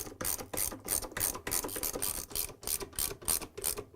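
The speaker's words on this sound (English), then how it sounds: "Install the lower counterweight and secure to the 4 bolts using the 10 mm socket wrench." Ratcheting socket wrench clicking in quick rapid bursts as it tightens the lower counterweight bolts on an LG/Kenmore washer, a steady run of close, crisp pawl clicks with no talk.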